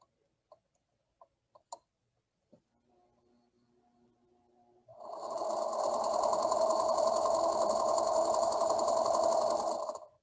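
A sewing machine stitches quilt pieces together, running as a steady, loud mechanical whir after a few soft clicks and handling taps, then stopping abruptly.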